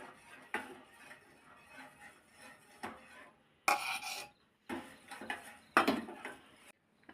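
Ragi flour paste being stirred into vegetable soup in a pot, heard as scraping, rasping strokes of a utensil against the pot, with a few louder bursts of scraping near the end.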